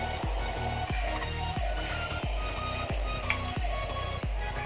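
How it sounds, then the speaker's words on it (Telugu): Eggs and chillies sizzle in a frying pan for egg fried rice, a steady hiss of frying broken by regular scraping knocks of a spatula stirring roughly every half second, with no talking. "బాగా కలుపుతూ మిక్స్ చేసుకుంటూ ఉండాలి ఎగ్స్ బాగా ఫ్రై అయ్యే వరకు"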